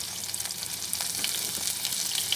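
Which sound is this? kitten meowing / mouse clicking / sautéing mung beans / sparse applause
sautéing mung beans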